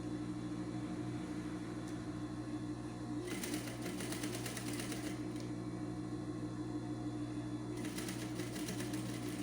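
A sewing machine stitches a blouse with gathered front detail and backstitches at the end of the seam, a steady close mechanical whir running throughout with brighter bursts of faster stitching.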